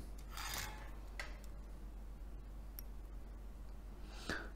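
Scraping the tough outer insulation casing off litz wire produces a few short, dry rasping strokes close by, with quieter scratches and a low steady hum between them.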